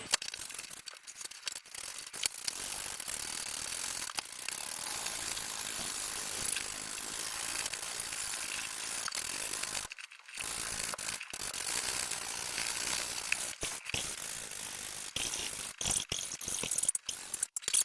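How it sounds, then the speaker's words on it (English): A hand pump inflates a YOTTOY exercise ball with repeated hissing, ratcheting strokes in a steady rhythm, close and moderately loud, broken by a few short pauses. "I can see some air getting into this ball already."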